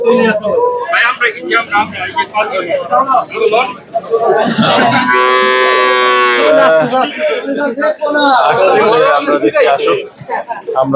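A Holstein Friesian dairy cow in her second lactation lets out one long, loud moo in the middle of a busy cattle market, with constant crowd chatter and nearby talking all around it.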